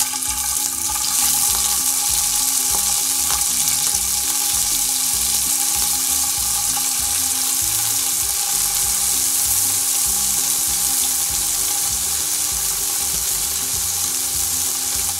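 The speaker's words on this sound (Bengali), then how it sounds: "শুটকিটা এখন ভেজে নেব" Chepa shutki, a fermented dried fish, fries in a little hot oil with a loud, dense, unbroken sizzle that stays close and even throughout.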